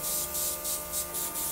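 Airbrush spraying make-up onto the underside of eyelashes, heard as a rapid series of short, soft hissing bursts with brief pauses between them, close up and quiet.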